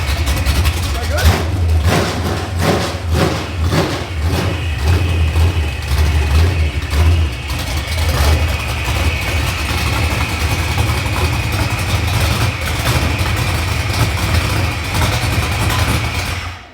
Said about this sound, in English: That definitely doesn't sound like the old engine